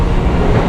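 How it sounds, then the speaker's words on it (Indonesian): Iron wheels of a commuter train roll steadily over the rails, a dense continuous low rumble with faint rhythmic clatter heard from inside a quiet carriage, with no voices. "Hanya ada bunyi roda besi kereta yang bergesekan dengan bantalan rel."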